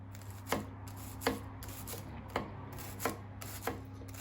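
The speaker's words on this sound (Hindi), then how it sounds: "इसी तरह ये बारीक प्याज काट लेना, इसी तरह बारीक पापरिका काट लेनी है" Onions and paprika being finely chopped with a knife on a board, five evenly spaced, crisp cuts roughly every three-quarters of a second over a steady low hum; no talking.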